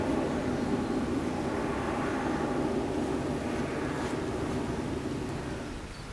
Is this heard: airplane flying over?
yes